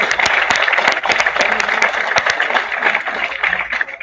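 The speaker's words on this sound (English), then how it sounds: "So can we have a big round of applause for our chairman" Audience applause at a national seminar as the chairman is welcomed, a dense, steady wash of many hands clapping that fills the room and holds at an even loudness throughout.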